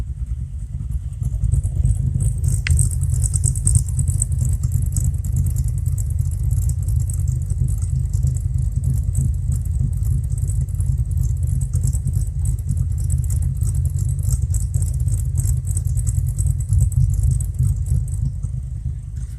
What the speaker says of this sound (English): Sounds a little lumpy to me, but this is like a B cam of Flowmasters and chopped off exhaust at the axle.